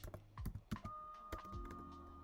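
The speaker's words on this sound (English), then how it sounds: "Let's type that in." Quiet, close typing on a computer keyboard: a quick run of irregular key clicks over a faint steady background hum.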